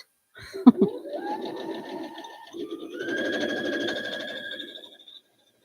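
A sewing machine runs in two short bursts of rapid stitching, whirring close by after a brief click, then stops.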